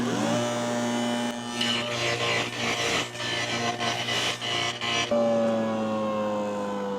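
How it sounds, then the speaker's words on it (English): A table saw fitted with a dado stack cuts a wide groove through decking board, the loud motor whine turning into a rough chattering roar mid-cut, then returning to a free-running whine as the cut ends. "it'd be a little bit less messy to do that groove with a dado stack than a router"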